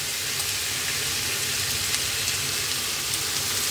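Chopped vegetables sizzling in a hot pan, a steady close-up hiss of frying with faint crackles and no talk.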